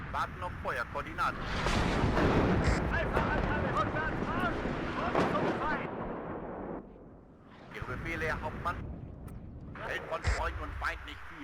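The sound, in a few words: enemy artillery fire in WARNO video game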